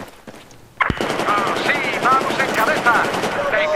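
Sustained automatic machine gun fire in the video game Battlefield 4, a loud continuous burst starting abruptly about a second in after a quiet lead-in, rattling steadily to the end with occasional higher whines over it.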